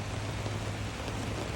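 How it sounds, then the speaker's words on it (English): Steady rain during an atmospheric river, a dense, even hiss of falling water with a low rumble beneath, continuous and fairly close with no voices. "the rain is supposed to subside soon"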